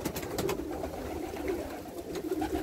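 Pigeons coo softly and repeatedly close by in a loft, low throaty calls overlapping with faint rustling and flapping in an enclosed space.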